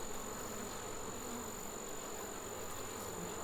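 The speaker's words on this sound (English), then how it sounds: "it's a great time to be looking into a beehive like this" Honeybees in an opened hive on a warm day, their dense, continuous buzzing forming a steady hum at low volume throughout, with no voices.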